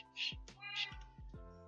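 A cat meows repeatedly in Minecraft, with several short, clear meows close up and in quick succession.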